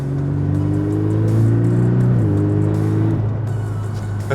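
A Porsche 718 Boxster S flat-four engine pulls loudly and close by, its pitch climbing steadily before dropping sharply at a gear change, then settling into a steady cruise.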